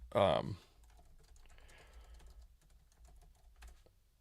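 Soft typing on a computer keyboard, scattered light key clicks after a brief louder burst at the start, quiet and close.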